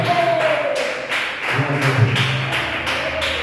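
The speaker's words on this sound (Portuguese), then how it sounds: "Palmas para Jesus, meus irmãos" A church congregation claps in a steady rhythm, regular beats of many hands about every half second, fairly close and even, with a faint voice beneath.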